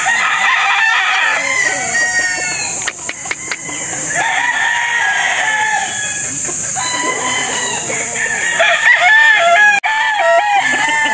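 An imported gamefowl broodcock rooster crows repeatedly up close, loud drawn-out cock-a-doodle calls overlapping with other crowing and clucking from nearby fowl, no speech.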